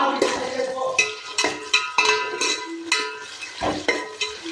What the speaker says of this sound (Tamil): இப்போ இந்த வெங்காயத்தை சேர்த்துக்கலாம்.